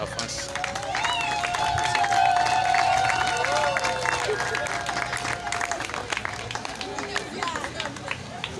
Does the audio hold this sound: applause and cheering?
yes